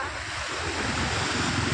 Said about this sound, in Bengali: পরপর ঢেউ, খুব সুন্দর ঢেউ আসছে।